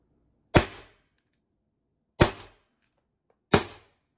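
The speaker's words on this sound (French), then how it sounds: "Alors là, c'était de l'air qu'on a tiré." An HDP 50 air pistol is dry-fired three times without a ball. Each shot is a crisp, isolated pop, evenly spaced, with near silence in between.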